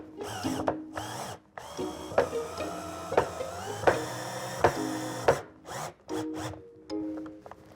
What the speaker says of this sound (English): I'm ready to screw in my hinges.